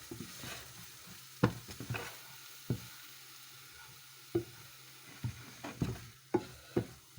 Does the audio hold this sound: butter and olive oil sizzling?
yes